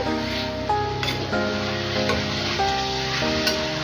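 Onions frying in mustard oil in a pan over a low-to-medium flame, a steady close sizzle that hisses on without pause, with faint stirring underneath.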